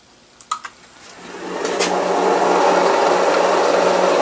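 A machine-shop motor on VFD speed control starts up after a few clicks, its whir rising smoothly before settling into a steady, even hum at about 300 RPM.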